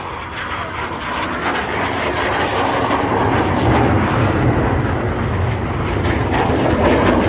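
Red Arrows display jets flying past low and fast, trailing smoke at over 450 mph and about 100 feet up, producing a loud, continuous roar that builds steadily and stays strong throughout, with no talk.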